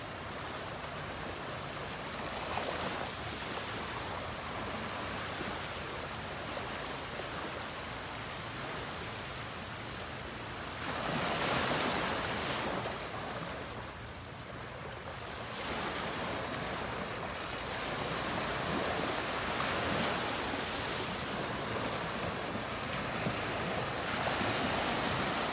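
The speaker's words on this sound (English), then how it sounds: "listening to the waves" Ocean waves wash and break along a beach in a steady roar of surf, swelling louder around the middle and again toward the end, with no voices over it.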